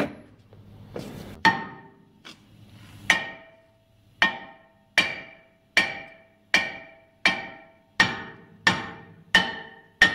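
A hammer strikes metal on the brakes and rotors of a 2005 Dodge Magnum R/T, landing about a dozen loud ringing blows in a steady rhythm, each with a sharp clang and a short decay.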